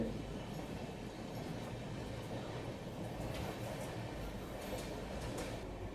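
The Delhi–Mumbai CR Rajdhani Express, hauled by push-pull locomotives, rumbles past at speed, a steady roar of wheels and carriages with faint rhythmic clatter throughout.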